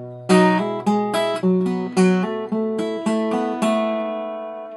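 Acoustic guitar playing a slow passage from measure 57–58 of a song, about eight plucked notes and chords ringing out one after another at an even, unhurried pace, close and clear with no voices.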